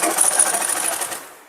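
Short, rapid burst of a sewing machine stitching a pant seam, close and clattering for about a second before the motor winds down and fades.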